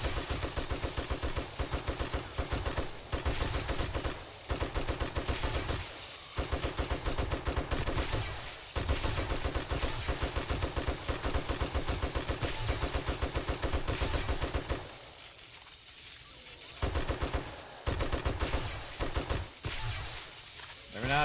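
Gunfire in the zombie survival game 7 Days to Die rattles in rapid, loud bursts of shots, broken by a few brief pauses between volleys.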